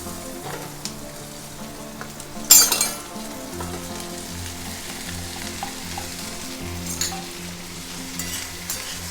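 Chopped okra with a little turmeric frying in a pan produces a moderate, steady sizzle, with a sharp clatter early on as it goes in, under a low background hum.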